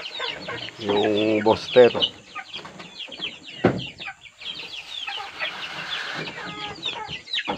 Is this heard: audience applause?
no